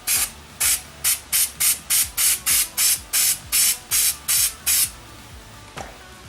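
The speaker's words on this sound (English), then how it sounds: "shake it up, and you spray it." Thirteen short, evenly spaced hissing bursts from a spray can, loud and close, followed by a faint final puff.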